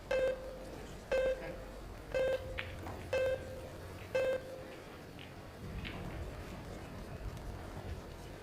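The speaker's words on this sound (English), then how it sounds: "we've heard the shot clock beeping" A shot clock at a men's open pool tournament in Las Vegas gives five evenly spaced electronic beeps about a second apart, loud and clear, then stops, leaving quiet room tone with faint background murmur.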